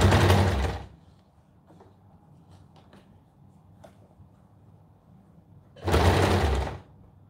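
A sewing machine stitches thick cloth in two short close bursts separated by several seconds of quiet handling sounds.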